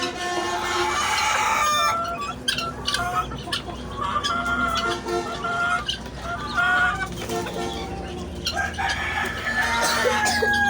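Large hens and roosters cluck and crow repeatedly nearby, several birds overlapping in a busy, lively chorus, with a person's voice occasionally mixed in.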